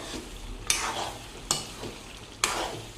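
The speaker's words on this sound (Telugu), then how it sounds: "దీనిపైన మూత పెట్టేసుకొని ఒక ఐదు నుంచి ఎనిమిది నిమిషాల వరకు నూనెలో వేయించుకుందాం" Chicken frying in oil in a covered pan for gongura chicken curry, giving a continuous close sizzle broken by three sharp clanks from stirring or the lid at regular intervals.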